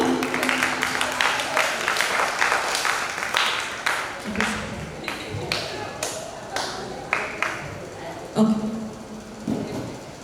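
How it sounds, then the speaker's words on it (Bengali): Audience clapping at a school prize-giving ceremony on a cultural stage in Taki, a scattered burst of handclaps with loud close claps standing out, running under a presenter's voice. "আর একবার একটু হাততালি চেয়ে নেব"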